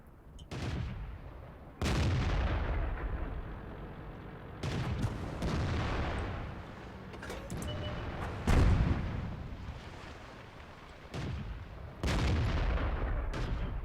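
Tank cannons fire in a World of Tanks battle, a series of sharp, heavy booms spaced a couple of seconds apart, each with a rolling decay, loud and close with background battle noise.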